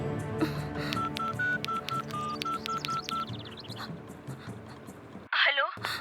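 Phone keys are dialed in a Hindi comedy film: a quick run of about a dozen short, evenly spaced touch-tone beeps, then a brief burst of clatter, over low background sound.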